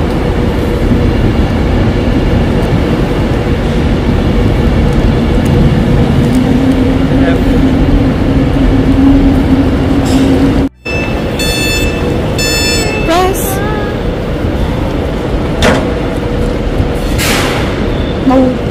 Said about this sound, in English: So our train is finally here